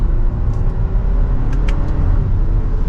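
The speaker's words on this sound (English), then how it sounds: "We'll go down to 3rd gear, just give it a mild acceleration" A Lexus NX 350 pulls in 3rd gear under mild acceleration, a steady, loud low engine and road rumble heard from inside the cabin, with a few faint ticks and no talking.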